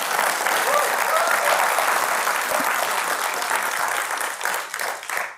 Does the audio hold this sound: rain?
no